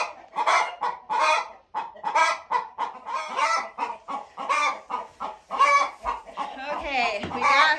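A hen that has just been lifted off her nest of eggs in a homestead chicken coop clucks and squawks loudly and close by. The calls come in a rapid, agitated run with no pauses.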